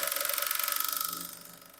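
A sewing machine stitches blouse fabric in a fast, even run of rhythmic ticks that stays close and moderately loud, then slows and fades as the stitching stops; no one speaks.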